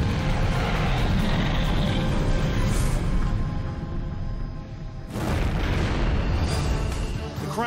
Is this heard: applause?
no